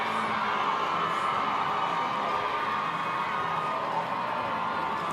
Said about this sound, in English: And a solid crowd on hand at Armstrong Stadium, continuing to cheer.